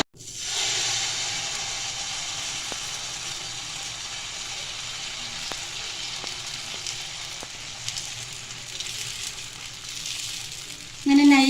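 Crispy dosa batter cooking on a hot pan gives a steady, close sizzle and hiss that holds for the whole stretch, with a few faint taps and a brief louder knock right at the end.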